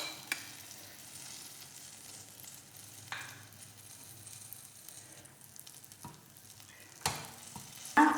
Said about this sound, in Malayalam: ഇനി അതേ പാത്രം തന്നെ ചൂടാകുമ്പോൾ ബാക്കിയുള്ള വെണ്ണയും കൂടി ചേർക്കണം.